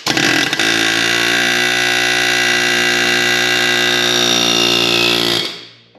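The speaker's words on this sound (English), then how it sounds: "we have an air hammer" A loud, continuous pneumatic hammering roar from an air hammer loosening a Toyota CV axle from the hub, running steadily for several seconds before cutting off and fading.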